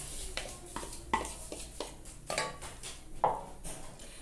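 Utensils clink and scrape against a cooking pot as sugar goes in for a peanut pé de moça sweet, several separate metallic taps and scrapes at irregular intervals, fairly close and without talk.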